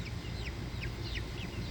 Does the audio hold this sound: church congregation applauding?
no